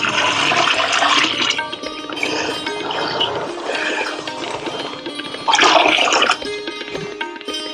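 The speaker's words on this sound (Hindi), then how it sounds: "बाद में डालते हैं हम चने का आटा 2 किलो, जिसमें पानी हमने घोल करके रखा है।" Gram flour dissolved in water pours out while jeevamrut is being mixed on a farm, a steady loud gushing splash with a surge partway through.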